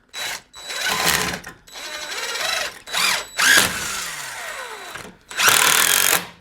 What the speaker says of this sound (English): now let's put the screws in it